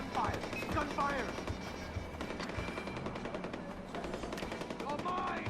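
Video game gunfire rattles in rapid machine-gun bursts and scattered shots, mixed with shouting voices and game effects at a moderate level.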